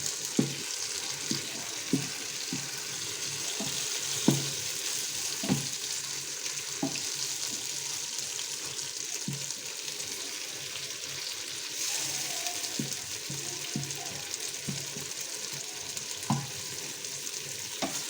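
Soft, steady sizzling of eggplant frying in a multi cooker, with occasional utensil taps and stirring clinks scattered over the quiet background.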